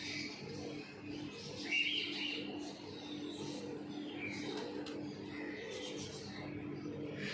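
An aged teddy-breed pigeon, four to five years old, coos softly in a quiet setting, with faint bird chirps and low background noise around it.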